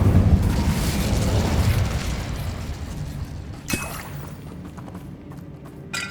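Incendio fire spell cast in the video game Hogwarts Legacy, a loud roaring whoosh of flame that gradually fades, followed by a sharp burst and a later smaller pop.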